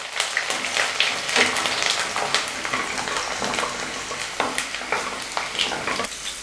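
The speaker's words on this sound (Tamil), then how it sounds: "போட்டு இதெல்லாம் நல்லா பொரிய விடலாம்." Garlic frying in hot oil for a garlic tomato thokku, a continuous crackling sizzle with scattered sharp pops and occasional stirring, close and steady without talk.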